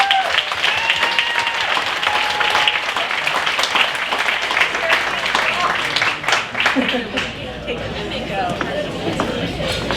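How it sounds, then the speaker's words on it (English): Audience at an awards ceremony for community leaders breaks into sustained, loud applause, a dense crowd of clapping hands that carries on for several seconds and thins slightly toward the end. "everybody give a great round of applause"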